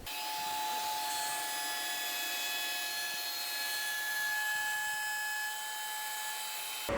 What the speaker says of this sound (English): right now let's go ahead and get these sides routed